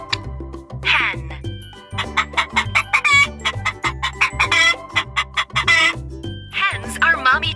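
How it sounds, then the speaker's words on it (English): Farm hens cluck in repeated short bursts over steady music, with a few brighter squawks and fowl calls mixed in, moderately loud and close. "Hens are mommy chickens."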